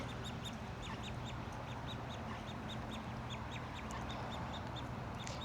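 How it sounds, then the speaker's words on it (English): Baby ducks quack in repeated quick peeps and chirps over a steady outdoor background hum, the little calls fairly faint and scattered at an irregular rhythm. "can I just show you this baby duck?"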